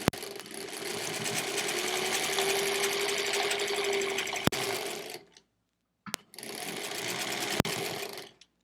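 Sewing machine stitching quilt blocks, quilt-as-you-go, running steadily in a close, even whir, stopping briefly near the end before starting again.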